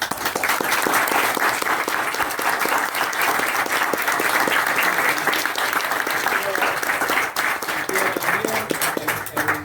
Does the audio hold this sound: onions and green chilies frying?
no